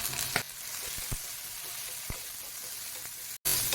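Chopped onions, curry leaves and green chillies sizzle in hot oil in a pan for masala cabbage potato poriyal, a steady close crackle broken by a few stirring scrapes and a brief cut near the end.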